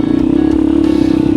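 A Yamaha Mio scooter on a mountain backroad passes close by, its engine a loud, steady drone with a rattly edge.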